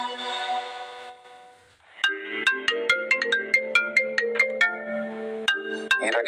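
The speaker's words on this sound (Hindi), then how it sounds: "हीरा के दादाजी मिस्टर कपूर का फोन आ रहा है।" A mobile phone rings with an incoming call, a bright melodic ringtone of repeating chiming notes that starts after a brief fading musical passage and plays on loudly and clearly, with no voices over it.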